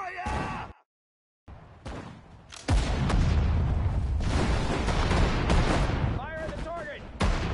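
Heavy artillery fire in a war video game, with loud booms rolling into a sustained, dense rumble of blasts and slams after a brief silence, and voices calling out over the barrage.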